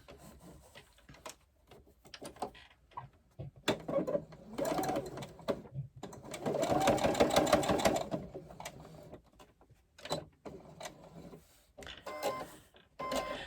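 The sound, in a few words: domestic sewing machine stitching around edges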